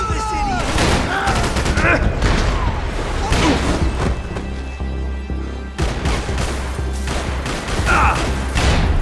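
Gunfire from the video game Max Payne 3 comes in repeated loud bursts of shots over a constant rumble of game noise, with a voice talking over part of it.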